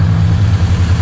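A car engine idles steadily with a low, even hum and no talking, parked in a snowy spot.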